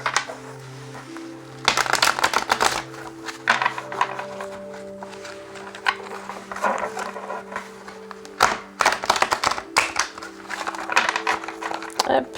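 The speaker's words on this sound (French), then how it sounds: "je vais d'abord bien les mélanger" Tarot cards are shuffled by hand in a series of quick, papery riffling bursts, separated by short quiet gaps, over a faint steady tone in the background.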